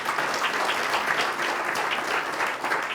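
A church congregation gives a full, sustained round of applause, dense and even throughout, with no voices rising above it.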